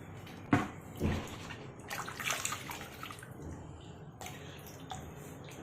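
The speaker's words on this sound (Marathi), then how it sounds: "आता पुन्हा एकदा आपण कैरी धुवून घेणार आहोत." Raw mangoes are swished and rinsed in a basin of clean water, with splashing bursts and sloshing close by and quieter trickles between them, no voices.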